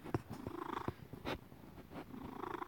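A house cat purrs softly and close up in a steady, low, rhythmic rumble, with a few louder snuffly breaths and no voices.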